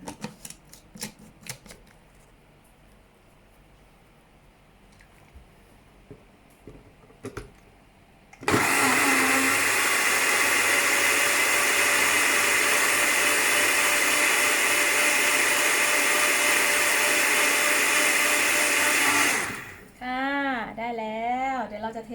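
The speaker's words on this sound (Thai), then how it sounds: "เอาไปปั่นรวมกัน" A blender whirs loudly and steadily for about eleven seconds as it blends salad dressing ingredients, starting abruptly after quieter kitchen handling and cutting off near the end.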